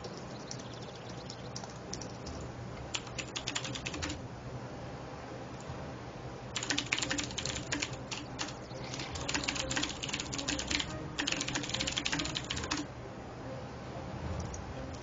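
Bursts of typing on a computer keyboard while entering a password for an online King of Fighters match, quick clicks coming in clusters over a steady background hum.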